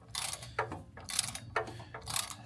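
A ratchet wrench turning a motor mount bolt in a car engine bay, several quick bursts of clicking pawl action in a regular back-and-forth rhythm, close and fairly clear, with no talking.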